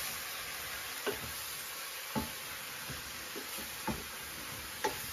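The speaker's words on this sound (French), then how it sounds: "alors les morilles. On les fait juste saisir un petit peu." Morel mushrooms searing in a pan give a soft, steady sizzle, with a few sharp knocks and scrapes of a utensil spaced every second or so.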